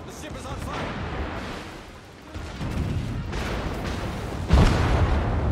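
Booming, rumbling blasts from a burning battleship in a World of Warships naval battle, a sustained low roar with a sharper burst near the end, loud and close.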